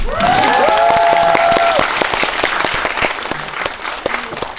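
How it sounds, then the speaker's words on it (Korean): Audience applause at a Korean film screening's audience talk, loud, dense clapping from many people that tapers slightly as it continues, with a brief voice at the start over the clapping. "박수 치고 싶은 크게"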